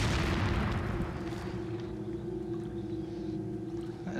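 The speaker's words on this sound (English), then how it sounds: "So they're all throwing bombs." Bomb explosions in the Resident Evil 4 video game, GameCube version: a loud, close blast opening the clip, then a long rumbling decay with a steady low hum underneath.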